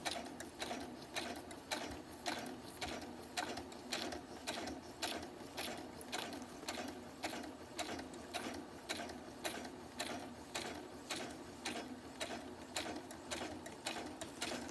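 A sewing machine runs steadily through the whole stretch, its rapid, even mechanical clatter repeating in a regular rhythm, close and moderately quiet, with no voices.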